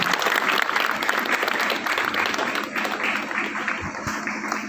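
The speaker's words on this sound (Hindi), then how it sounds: "मैं तालियों से स्वागत अभिनंदन।" Clapping at the inauguration of the Janhit Foundation Trust in Doriganj, opened by the JPU vice-chancellor: a crowd's sustained applause rings out loud and fairly close, thinning slightly near the end.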